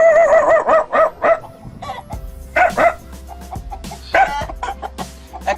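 A man imitates a dog barking with his voice, giving a series of short, loud, rhythmic barks and yelps close up, mixed with clucking, fowl-like calls.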